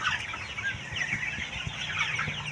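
KUB 2 Janaka chickens, 45 days old, cluck softly and repeatedly on a farm in a loose, overlapping stream of short calls at fairly low volume.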